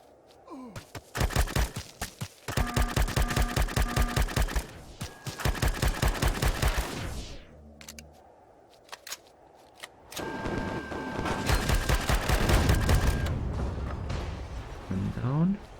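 Video game gunfire in Empyrion Galactic Survival: dense rapid bursts of automatic shots in several loud volleys, with pauses and a quieter stretch in between, plus breathy voice-like sounds.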